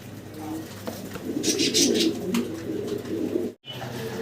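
Pigeons coo in low, soft, repeated calls close by, with a brief rustle of movement.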